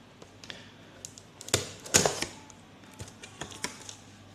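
Unboxing a Samsung NVR SRN-1673SP network video recorder, with close handling noises of the box and packaging: scattered taps and rustles, and two louder cardboard knocks near the middle. No talking.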